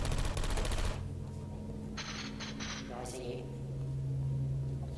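A gun turret in Portal 2 fires a rapid burst of shots, followed by a few short staccato bursts, over a background game hum, with a voice talking in the scene.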